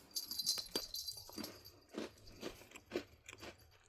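Close, crisp crunching as a hard, grain-free almond flour cinnamon cookie is bitten and chewed, in separate bursts about every half second, with no talking.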